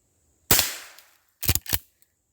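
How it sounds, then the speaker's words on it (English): Three sharp .22 shots from a Henry lever action rifle outdoors, one loud crack with a fading tail, then two quick reports close together about a second later. "we're going to shoot the one in the light first"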